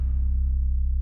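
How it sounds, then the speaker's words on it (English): Deep synth bass made in FL Studio, a sustained low, humming tone with a slight steady pulsing wobble, loud and alone for about a second. "I just had this kind of deep bass"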